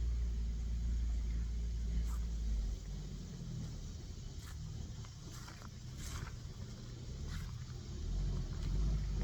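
A truck rolls along a park road, a steady low engine rumble that swells and fades slightly over several seconds with faint outdoor background.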